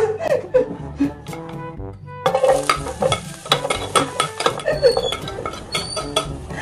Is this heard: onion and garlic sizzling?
yes